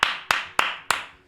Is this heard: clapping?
yes